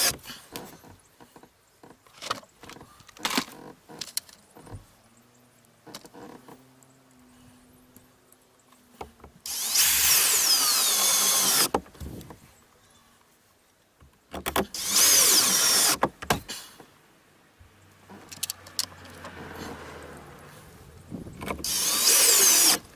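A power tool buzzes in short bursts and two longer loud runs while tightening a steering helm wheel adapter for a Morse-type steering cable, with quieter clicks and handling noises in between.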